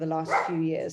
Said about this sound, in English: I apologize for my barking dog.